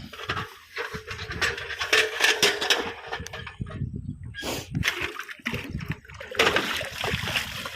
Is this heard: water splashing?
yes